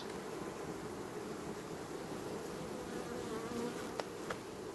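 Honey bees buzz densely around a hive frame, a continuous close droning hum with a couple of brief sharp ticks near the end.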